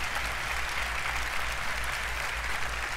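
An audience claps through a steady, dense wash of applause at the Ubisoft E3 2016 presentation, sustained and even throughout with no speech on top.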